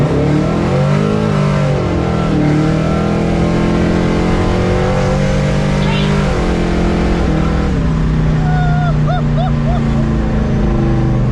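A car with nitrous roars hard under acceleration, a loud, continuous engine note climbing and shifting close up, with faint voices beneath the din.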